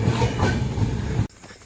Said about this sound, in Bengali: আমাদের ট্রেন ছেড়ে চলে যাচ্ছে।